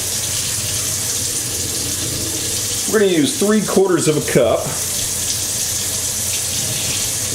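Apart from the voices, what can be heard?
tap water running into a measuring cup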